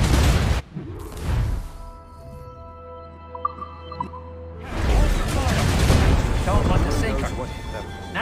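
Cannon fire at a ship in Assassin's Creed Rogue comes as heavy booming blasts at the start and again in a rumbling volley later, with a quieter stretch of ship ambience between them and voices talking throughout.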